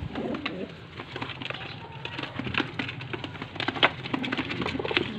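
Pigeons coo steadily amid a busy chorus of bird calls, with soft rustling and flapping close by.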